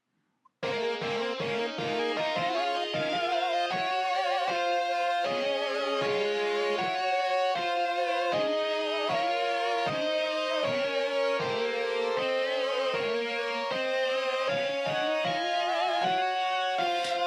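Several gospel synth layers sounding together make a thick, heavy wall of sustained chords with pulsing rhythmic stabs underneath, loud and continuous with no voices.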